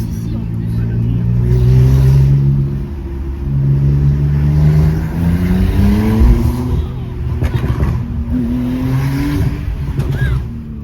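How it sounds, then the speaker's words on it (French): A loud sports car engine revs and roars up and down through the gears in town at night, close and continuous, with brief squeals and voices talking over it. "Dès que tu es en ville, tu entends beaucoup plus le moteur."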